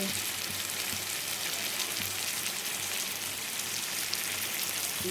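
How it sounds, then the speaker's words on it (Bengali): Meat curry keeps up a strong, steady sizzle and bubbling in the pan after hot water goes in, a continuous hissing close by with no talking. "এই গরম জলটা একটু ঢেলে দিলাম"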